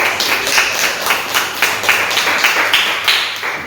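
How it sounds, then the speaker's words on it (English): An audience claps steadily and continuously at a community health center event, with the dense patter of many hands holding a fairly even level across the whole stretch. "we need to give this organization a round of applause"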